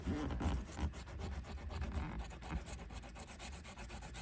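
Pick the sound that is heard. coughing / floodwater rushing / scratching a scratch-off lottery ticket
scratching a scratch-off lottery ticket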